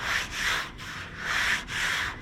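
A sanding block fitted with 180-grit sandpaper rubbing off guide coat on a primed car door during rust repair bodywork, about four close, rhythmic back-and-forth strokes with a loud abrasive hiss.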